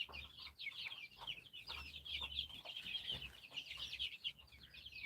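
A flock of chickens clucks and chirps steadily and close by while feeding, a busy continuous chatter with occasional low thumps and no talking.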